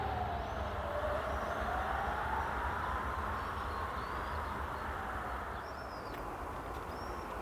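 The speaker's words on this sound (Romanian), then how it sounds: "Haideți că mai vine un tren." A train rolls past near the port in Constanța as a steady, broad rumble with a faint rising and falling tonal whine, heard from a moderate distance, with a few thin chirps above it.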